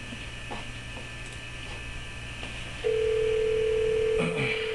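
A phone line tone comes through a speakerphone, a steady electronic beep starting midway and holding for over a second over a low room hum, with no talking.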